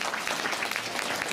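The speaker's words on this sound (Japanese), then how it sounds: "みんな拍手しようぜ" Brief burst of audience applause during the Turtle Talk show at Tokyo DisneySea, a dense wash of clapping from a crowd.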